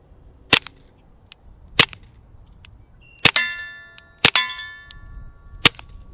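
Suppressed gunshots through an AAC Halcyon modular silencer, five sharp cracks at irregular intervals, two followed by a ringing metallic clang from hitting a steel plate, heard alone outdoors.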